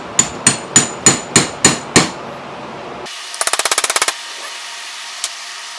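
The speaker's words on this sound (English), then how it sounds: "Take a socket and go ahead and tap that bearing into place." A socket is hammered to drive a bearing back into a Mazda or Ford steering rack being de-powered for an Escort GT: seven loud, evenly spaced metallic blows, then a quick rattling burst of lighter taps and one last single tap.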